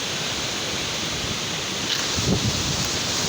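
Strong wind lingers after Typhoon Kristine in a rural Philippine province, a steady, loud, broadband rush with no clear breaks and slight swells toward the end.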